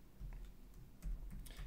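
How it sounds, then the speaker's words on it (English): Someone types a password on a computer keyboard, with a few soft, quiet key taps spread unevenly over low background hum, and no voices. "so you're going to have to type this in manually."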